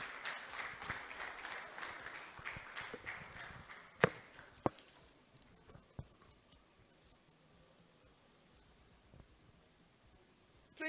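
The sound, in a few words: audience applause at awards lunch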